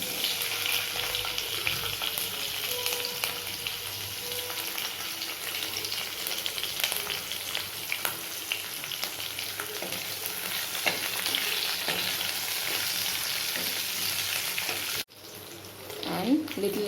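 Capsicum sizzles in a hot pan with kalonji seeds, a steady bright crackle and hiss that runs continuously with faint stirring scrapes, then drops off abruptly near the end.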